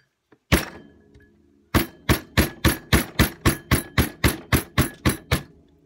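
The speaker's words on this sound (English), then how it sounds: "You can take a hammer to it." A hammer strikes repeatedly on an altered book project: one blow, a pause, then about a dozen sharp, evenly spaced hits, close and loud.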